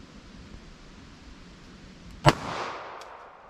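A single sharp gunshot from a Smith & Wesson Shield EZ .380 ACP pistol, a crisp crack followed by a brief diffuse echo tail over faint outdoor background hiss.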